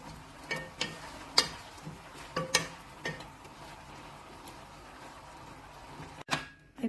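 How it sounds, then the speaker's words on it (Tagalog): Chicken sauce of soy sauce, ketchup, bay leaf, a Maggi cube and water being mixed with a utensil: scattered soft clicks and scrapes against a pot, several sharper taps, fairly quiet and close, no talking. "I put water, and then mix well"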